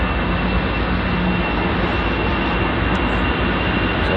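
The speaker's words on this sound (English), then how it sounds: "just passing in front of us is the Air France" An Air France Airbus A320 jet passes at London Heathrow, producing a loud, steady engine roar that fills the whole stretch without a break.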